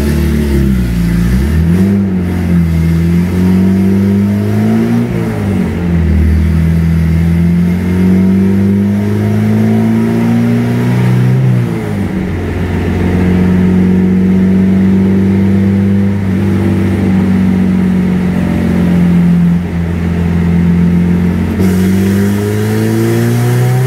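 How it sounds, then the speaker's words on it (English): A Honda B18C1 engine runs on a dyno with VTEC off, revving loudly and continuously, its pitch climbing and falling through several pulls under full load. "this will be our first baseline pull with VTEC turned off"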